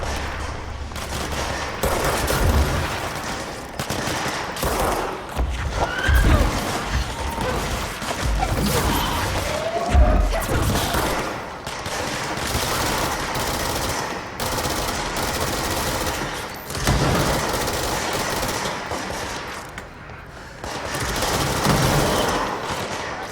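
Gunfire in the video game Control, with sustained automatic bursts and scattered heavy shots and crashes across a long firefight, loud and near throughout.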